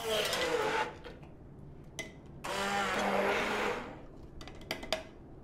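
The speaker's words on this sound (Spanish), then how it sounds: "Los echamos en el vaso de una batidora y los trituramos." A blender purees tomatoes in short bursts, stopping and starting, with brief clicks and knocks between the runs and a steady background hum.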